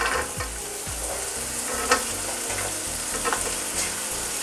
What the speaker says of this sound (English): We'll just saute this first and then we'll add the cauliflower.